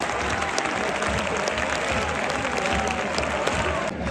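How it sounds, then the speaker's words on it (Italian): Stadium crowd at Bologna's Dall'Ara applauding a substitute during Bologna versus Udinese, a broad, constant roar of clapping and crowd noise from a large open-air crowd, far and enveloping. "Entra anche Masina tra gli applausi meritati del Dallara."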